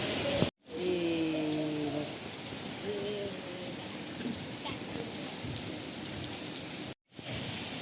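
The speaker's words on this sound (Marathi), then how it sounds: "आताही भरपूर पाऊस पडत आहे" Heavy rain pours steadily on a Konkan village, a dense continuous hiss broken by two brief gaps, with faint tonal sounds early on.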